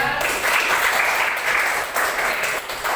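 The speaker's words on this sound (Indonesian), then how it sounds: "Beri tepuk tangan dong untuk kita semuanya." A group claps together in sustained, fairly loud applause that runs steadily for several seconds, dense and continuous with slight dips, no voices over it.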